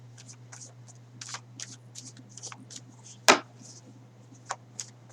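Tarot cards are shuffled by hand in quick riffling bursts and soft flicks, with one sharp slap of the deck midway, close and clear over a low steady hum.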